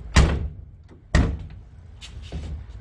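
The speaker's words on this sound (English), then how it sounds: "I'm going to do a trial shut of the door to see whether it shuts." Two solid thuds from a Datsun 510 car door being shut during a trial fit, close and loud, each with a short rattle after, followed by faint clicks and handling noise.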